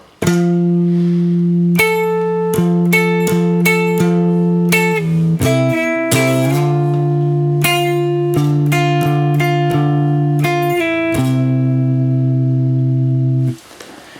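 An electric guitar plays the first two bars of a riff, rhythmic chord hits and short strums, ending on a long ringing chord that cuts to silence.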